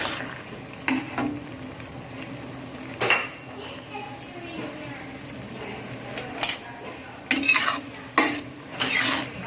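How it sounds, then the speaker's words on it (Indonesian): A utensil stirring sweet and sour chicken in a pan, scraping and clanking against the metal in scattered bursts over a low, steady sizzle, close by and fairly quiet between the strokes. "Kita aduk rata."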